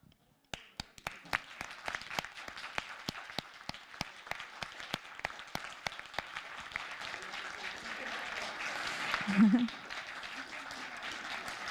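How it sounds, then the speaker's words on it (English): Applause from a modest audience after a thesis defense presentation, starting as sparse separate claps and thickening into steady, moderately loud clapping that swells briefly near the end. "So a round of applause for you."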